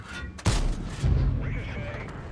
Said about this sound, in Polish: Jeszcze jeden strzał i, i będzie po przeciwniku.